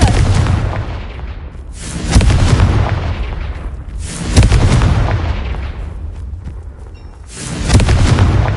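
Repeated booming blasts of the Confringo fire curse spell in Hogwarts Legacy, about four loud explosive impacts roughly two seconds apart, each followed by a rumbling decay with no talk.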